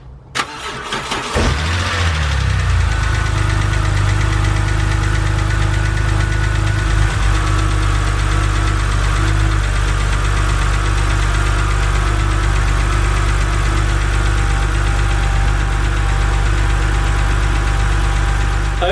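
A BMW 130i with the N52 six-cylinder engine, just after an oil filter housing gasket replacement, cranks briefly and catches, then settles into a steady, loud, close idle that runs on evenly without talk.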